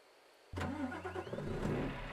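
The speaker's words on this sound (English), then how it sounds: "Now let's see if it'll start the truck. Turn it to auxiliary and crank the key." A truck engine in a truck simulator game cranks briefly and catches, then settles into a steady, close, loud idle.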